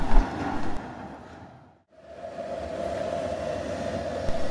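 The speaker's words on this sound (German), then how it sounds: "es geht nach 3 Minuten Aufenthalt bereits weiter durch die begrünte Wendeschleife wieder zurück in Richtung Holzmarkt" A tram on the Halberstadt tramway runs through a grassy turning loop, its rumble fading almost to silence before it swells again into a steady wheel hum and rolling noise.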